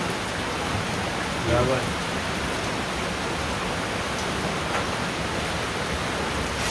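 Steady rain hisses evenly on surfaces all around, a constant wash of sound with no break, moderately loud and close.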